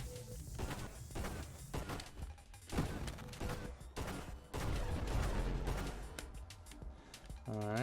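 Rapid-fire weapon shots in the space shooter Nova Drift, a dense, continuous barrage of overlapping blasts and crashes layered with busy game effects and music throughout.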